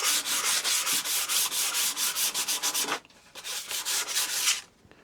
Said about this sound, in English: Now I'm just doing a light sanding here just to make some of the color pop.